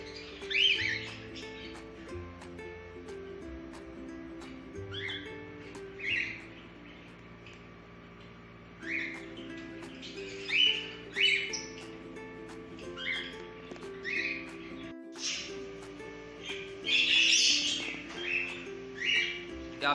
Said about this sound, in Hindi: आप देख रहे हैं ज़ेब्रा फिंच।